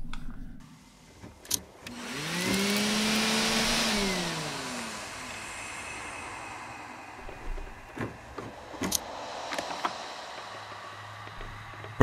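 A broken vacuum cleaner in a hidden-object video game whirs up loudly for a couple of seconds, its pitch rising and falling, then fades into background ambience with a few sharp clicks.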